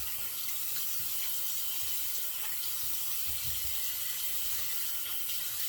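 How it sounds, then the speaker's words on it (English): A shaving brush is rinsed under a running tap, giving a steady broadband rush of water into a sink that stays even throughout, close and moderately loud, with no talking. "rinse off."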